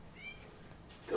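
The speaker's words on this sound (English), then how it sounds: "Go away, cat." A cat meows briefly and faintly in a quiet room, a single thin drawn-out call, followed by a louder burst of nearby noise at the end.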